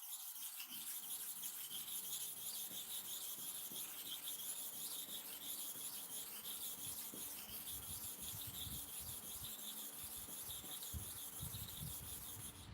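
A clipper blade is rubbed back and forth with kerosene while being sharpened, making a steady, quiet, continuous scraping and rasping that runs throughout, close by and without speech.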